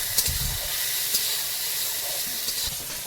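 Chopped onion fries in oil with dried red chillies, cumin seeds, peppercorns, bay leaves, whole garam masala and green chillies, making a continuous close hiss broken by a few sharp crackles.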